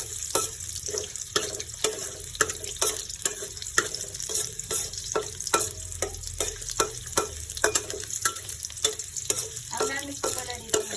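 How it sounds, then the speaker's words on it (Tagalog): Ginger sautés in used cooking oil for octopus adobo, a close, crackling sizzle broken by rhythmic stirring scrapes with a spatula, with no voices over it. "ang unang gisahin natin guys ay luya"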